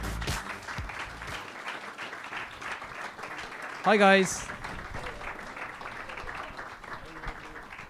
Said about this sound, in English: I promised them rapturous applause, and in fairness, it wasn't rapturous